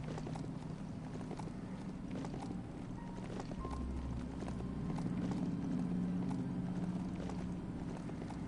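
Horse hooves clip-clop steadily across the ground in Biomutant, a mid-level plodding rhythm laid over continuous ambient game noise and a low droning hum.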